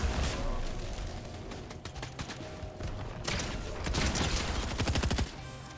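Rapid bursts of automatic gunfire in the video game Fortnite, dense crackling volleys that run continuously and intensify toward the end before cutting off, loud and close.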